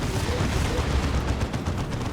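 Demolisher Cannon fire from a Baneblade battle in Dawn of War 2, a dense, sustained barrage of heavy booming gunfire and explosions rumbling continuously across the whole stretch, loud and close.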